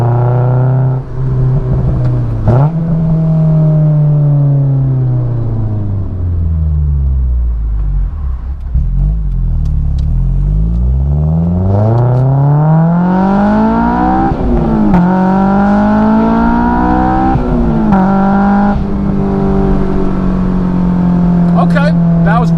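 A Honda S2000 with an Invidia Q300 exhaust, top down, revs hard through second gear and part of third to redline, its pitch sweeping up repeatedly with each gear. The loud engine note stays up close and steady throughout, with no talking.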